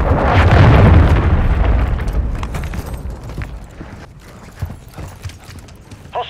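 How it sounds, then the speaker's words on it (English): A cruise missile explodes in Call of Duty: Modern Warfare III with a loud, heavy boom whose rumble decays slowly over several seconds, followed by scattered sharp impacts and battle noise. "Hostile cruise missile incoming."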